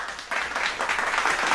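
A short, broad wash of clapping that swells slightly over a second and a half, sounding like a crowd of football fans applauding together.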